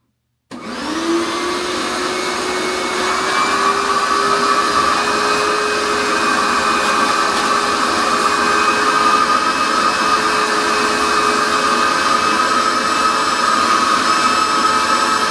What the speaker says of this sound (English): I got the shop vac set up so I can empty it into the gross sink over there.